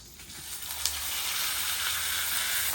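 A chuck roast seared in avocado oil on a very hot griddle gives off a loud, steady sizzle and hiss that fills the whole moment without pause.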